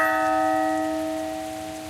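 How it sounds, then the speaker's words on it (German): A church bell in the video game Dark Tales rings once, its clear sustained tone with layered overtones slowly fading away, heard alone with a faint rain-like hiss underneath. "Und 3 Glockenschläge noch."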